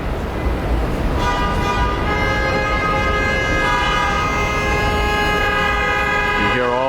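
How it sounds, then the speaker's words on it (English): A long, loud horn blast sounds over busy downtown New York traffic at night, a sustained tonal honk that swells in and holds for several seconds above the street roar. "You hear all the anxious people really with their horns are saying, hurry up, I have some place to be."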